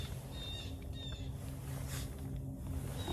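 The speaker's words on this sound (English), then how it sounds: "I hear you, birds" Birds chirping outdoors on a winter day at a tarp camp, a few faint high calls around the first second over a steady low rumble of background noise.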